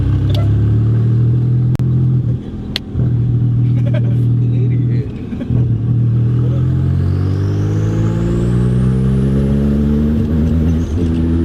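A twin-turbo Porsche 930 idles with a deep, loud, close rumble and is revved in a few rising blips, its pitch climbing steadily toward the end.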